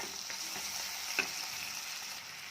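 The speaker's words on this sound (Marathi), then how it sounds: "टोमॅटो देखील छान परतून घेऊया।" Onions and tomatoes being sautéed in a pan for a spicy Kolhapuri potato dish, a steady close sizzle with a few soft stirring clicks and one brief sharp tap.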